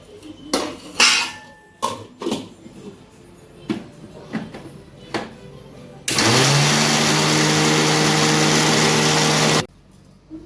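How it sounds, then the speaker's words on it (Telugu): Loose knocks and clatters lead into a kitchen mixer grinder churning roasted peanuts and sesame seeds, a loud steady whirring roar that runs for about three and a half seconds before cutting off sharply. "వీటిని వేయించి ఇగో మిక్సీ పడుతున్నా."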